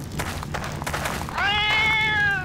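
A pet cat named Miska gives a loud, sustained meow lasting about a second, standing out over a continuous game soundtrack with scattered clicks and knocks.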